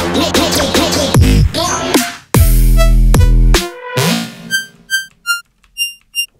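Synthesizer with an LFO envelope on the level knob, quarter-note rate: loud, bright chopped tones that pulse and cut off, then fade to a few short, quiet beeping notes, with no voice.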